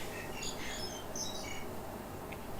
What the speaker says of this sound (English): Oh, there's a bird.